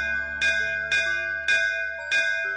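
In an animated cartoon, a large bell is struck loudly four times at an even pace, each clang ringing with bright sustained metallic tones that overlap the next strike.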